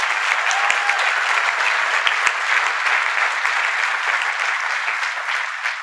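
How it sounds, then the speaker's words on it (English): Sustained applause from an audience honoring Kansas City workers at a civic event, steady dense clapping for about six seconds with a few sharp knocks, no speech over it. "Let's give them a round of applause as well."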